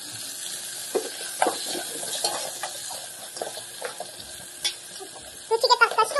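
Onion, potato and brinjal sizzle in a pan while a spoon stirs and scrapes them in irregular clacks, building to a quick burst of scraping at the end; frying is loud and close.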